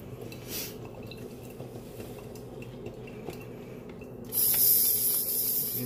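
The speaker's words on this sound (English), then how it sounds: "You hear that? Spitting out a little bit of water there." An Imusa espresso machine's steam wand hisses and spits water: a quiet, steady background first, then a sudden loud, sputtering spray of steam that carries on to the end.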